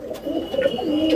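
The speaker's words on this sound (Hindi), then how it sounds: "बेमिसाल किस्म के कबूतर" Soft, low cooing of Rampuri Chandakhani Indian pigeons murmurs through the short moment, a steady throaty burble close by with no talking.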